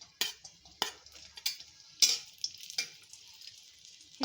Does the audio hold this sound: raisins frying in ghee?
yes